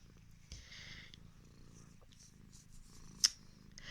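Cat purring close to the microphone indoors, a soft, steady low rumble running throughout with faint rustles and a brief sharp click near the end.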